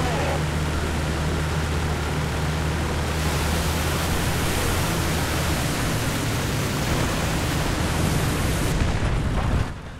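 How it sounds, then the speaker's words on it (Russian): Water-crossing sound of a tank in the video game from the gunner's position, unprocessed by tank acoustics: a loud, steady broadband rush with a low rumbling drone, continuous throughout and cutting off at the very end. "звук, с которым танк преодолевает какую-то водную преграду"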